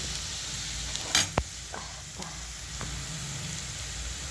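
Potato pieces sizzle steadily in a pan while frying into aloo fry, with a few sharp clinks and scrapes of a spoon stirring near the start, close and alone without talk.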